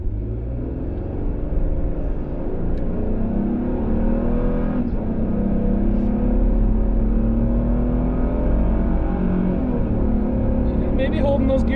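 A 2022 Toyota Tundra pickup with a turbo V6 accelerates hard in tow plus mode, its engine a loud, steady, climbing drone heard from inside the cab that builds and holds throughout.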